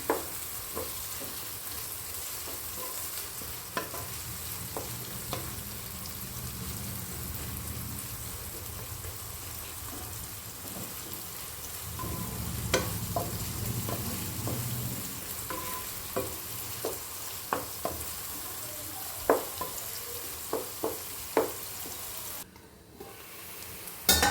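Onions fry in a pot for chicken curry, a steady low hiss of sizzling oil running throughout, with occasional sharp clicks of a spoon stirring; close, even and without voices.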